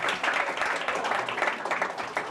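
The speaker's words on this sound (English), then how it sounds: "give one more big round of applause to our lovely panelists" An audience at a digital impact summit applauds the panelists, dense continuous clapping from a seated crowd, moderately loud and steady throughout.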